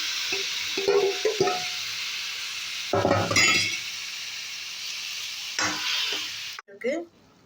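Grated pumpkin sautéing in ghee for Kasi halwa, soft continuous sizzling broken by several bursts of a spoon stirring and scraping the pan, with a metallic clink near the end.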